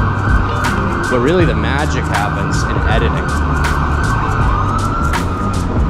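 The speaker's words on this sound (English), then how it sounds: "there's sirens going by," Emergency vehicle sirens wail and warble as they pass along a Chicago street amid loud traffic noise, while someone talks over them up close.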